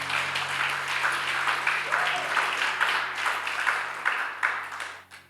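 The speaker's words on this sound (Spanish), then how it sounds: "Dale un fuerte aplauso al Señor en esta noche" Sustained crowd applause at an evening prayer service in church, steady and fairly full, tapering off at the end.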